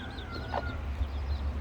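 Hens cluck softly in a backyard chicken run, a brief fowl call standing out over a steady low rumble of outdoor background noise, with no talking.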